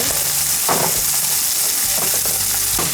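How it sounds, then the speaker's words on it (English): Onion and other ingredients sauté in a home pan for Manchurian chicken, giving a steady, close sizzle with a few brief stirring scrapes. "We add another ingredients in there, saute."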